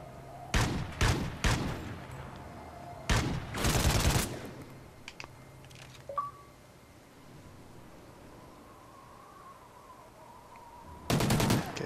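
Remington gunfire in Call of Duty Ghosts on the Subzero map, several loud, sharp bursts of shots in quick clusters separated by quiet stretches, with a final burst near the end.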